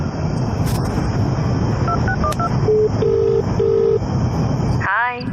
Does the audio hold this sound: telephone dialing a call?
yes